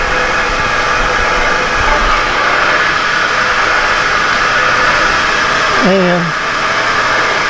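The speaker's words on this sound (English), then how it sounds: "Now what I found out with my mill, come on, crank this thing up a little bit." A small milling machine cranked up to roughly 120 to 130 RPM, used for drilling and tapping holes in a mini pallet, gives a steady loud whirring drone throughout, with a brief voice near the end.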